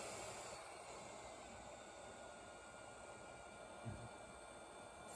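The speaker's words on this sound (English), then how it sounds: "Right, let's get the heat gun on." A heat gun set to 4.5 airflow at about 350 degrees blows a steady, faint hiss of hot air throughout, used for an Xbox 360 E repair, with a brief low bump near the end.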